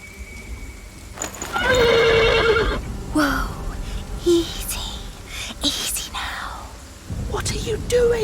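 A horse neighs loudly nearby, followed by snorts, hoof clops and shuffling, with quiet whispered voices in between.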